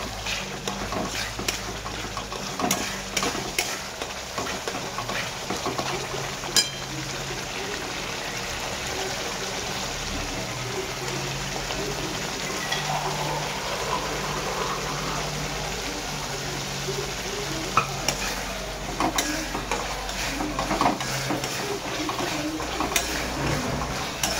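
Masala for a chicken liver curry fries and is stirred in a pan, giving a steady, dense sizzle with scattered clicks and scrapes throughout, and a faint voice in the background.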